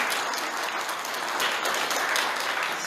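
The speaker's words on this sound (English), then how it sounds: "give a round of applause for Sue" Church congregation applause at a community church thank-you gathering, a dense, even wash of many hands clapping that holds steady throughout.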